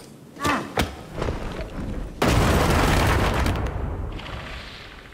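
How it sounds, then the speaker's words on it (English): Stun grenades going off in Warhammer 40,000: Darktide, with two sharp early pops followed by a loud sustained burst of blast noise that fades slowly, with no voices over it. "three stun grenades, okay."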